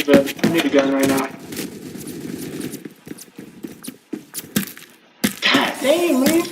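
Gunfire in the video game Phantom Forces, sharp cracks and short bursts scattered through the stretch, mixed with a player talking over it.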